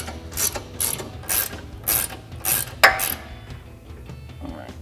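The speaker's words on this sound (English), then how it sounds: "we're gonna grab our 21 millimeter ratcheting wrench and take that nut off" A 21 mm ratcheting wrench removing a nut from an eccentric bolt on a 2015-2025 Mustang rear toe link, with several quick bursts of close metallic clicking separated by short pauses.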